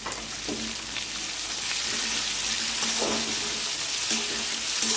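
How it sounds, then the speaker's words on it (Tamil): Masala with cut tomato sautés in a pan for a mango fish curry, producing a loud, constant close sizzle with faint stirring scrapes and no talking. "இது எல்லாத்தையும் நல்லா செதற அளவுக்கு வதக்கணும்."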